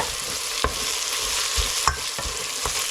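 Chopped onions and tomatoes frying in a pan for mushroom biryani give a steady close sizzle, broken by several distinct scraping stir strokes at irregular intervals, with no talking.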